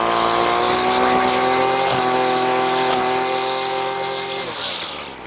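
Husqvarna 130L gas string trimmer's small two-stroke engine running at idle, a steady buzzing drone with a high whine on top that holds level and then drops away at the end.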